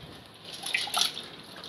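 Water is poured into a pot of sambar made with plenty of lentils, giving a faint, brief trickle and dripping that swells for a moment mid-clip against quiet kitchen ambience.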